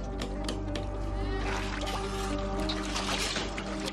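Water trickles and dribbles in a steady, close wash, with a faint voice present in the background.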